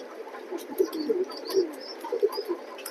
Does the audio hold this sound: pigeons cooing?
yes